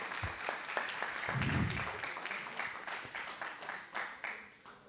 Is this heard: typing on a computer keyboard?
no